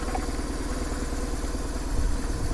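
A BMW R1100GS motorcycle engine runs steadily while warming up, a close, continuous rumbling idle with slight clatter and a small surge near the end, with no talking.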